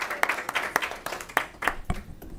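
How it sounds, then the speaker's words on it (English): Audience applause at a school board of education meeting honoring a student of the month, with a series of sharp claps that rise and fall rather than a dense roar, fairly close and moderately loud. "We again want to applaud and thank Stephon Woods for being a Nova Academy student."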